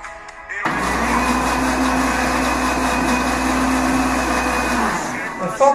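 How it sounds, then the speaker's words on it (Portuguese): After a short pause a blender starts up beating three eggs and runs with a loud, steady whirring hum for several seconds before winding down. "Vou bater os ovos um pouco."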